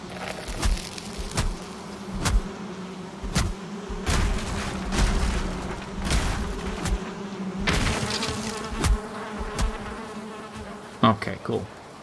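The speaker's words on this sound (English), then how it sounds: "we are getting a lot of honeybees by exploring this far." Honeybees buzz in Valheim with the EpicHeim mod, a steady droning hum that runs throughout alongside repeated sharp thumps and game effects, with no talking.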